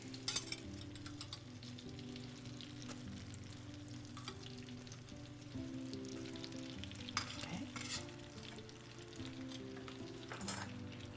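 Banana pieces fry in bubbling caramel in a pan, a steady sizzle under occasional utensil scrapes and stirring clinks, close and continuous without talk.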